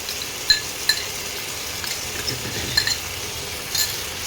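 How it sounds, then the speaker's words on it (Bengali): Spice paste being stirred into fried onions in a pan on the stove for a Bengali fish dish, with light metallic clinks of the spoon against the pan over a low sizzle. "ভালো করে এভাবে আর একটু নাড়িয়ে নিলাম, নিয়ে এবারে মশলাটা এর মধ্যে দিয়ে দিলাম"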